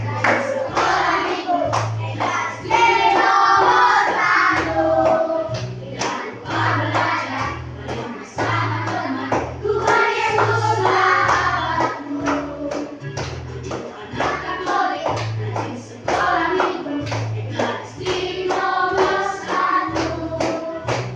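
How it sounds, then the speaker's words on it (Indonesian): Children in a fourth-grade class clapping hands in a regular beat while singing along to a song with a repeating bass pattern, sharp rhythmic claps continuing steadily throughout. "sambil tepuk tangan."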